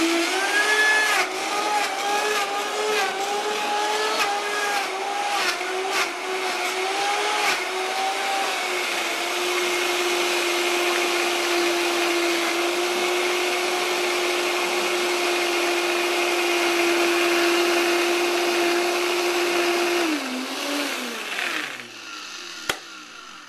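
A Vitamix blender purees raw apples into applesauce, a loud steady motor whine that rises and settles in pitch as the fruit breaks down, running continuously for about twenty seconds before spinning down abruptly.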